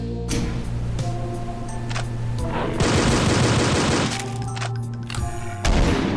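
Rapid, loud gunfire in the Doom 2 mod BREAK//POINT, with dense bursts of shots and booming impacts layered over a looping game soundtrack, continuous and close.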